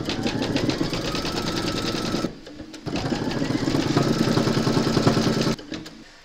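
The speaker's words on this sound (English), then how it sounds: "Pop your hoop into your machine and stitch round number 5 to secure them." An embroidery machine stitches a round of appliqué on a hooped design with a fast, steady mechanical whirring, loud and close, pausing briefly once before resuming and stopping again.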